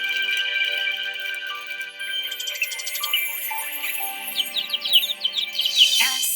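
Sparrows chirp in quick, bright tweets over a steady musical tone bed, the calls growing busier and more overlapping toward the end.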